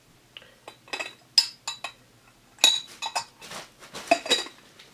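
A metal tea infuser and a little spoon clinking as the infuser is taken apart, a series of close, bright metallic taps and chinks in irregular bursts, with no talking.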